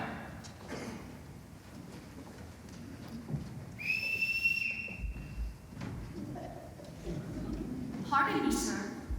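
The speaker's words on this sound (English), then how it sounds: "I forgot to return this whistle, Captain." A whistle blown in a stage production of The Sound of Music gives a couple of short, shrill blasts amid stage noise, footsteps and voices talking.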